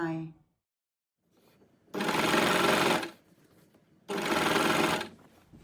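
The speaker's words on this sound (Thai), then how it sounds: "เย็บผ้าถุง ค่ะเพื่อนๆผ้าถุงลายไทย" A sewing machine stitches a Thai-patterned sarong in two bursts of rapid, close, loud whirring, each about a second long, with quiet handling sounds between them.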